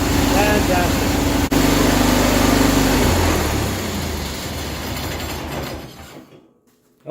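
A John Deere tractor engine runs loud and close while driving the PTO, its steady drone dropping in pitch partway through before winding down and fading out, with a voice shouting over it.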